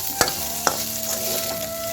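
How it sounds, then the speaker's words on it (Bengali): Okra stir-fried with garlic and dried chillies in a thin kadai, two sharp spatula knocks against the pan over a low, steady sizzle and hum. "এই যে রসুন দিয়ে ভেন্ডি ভাজা করছি"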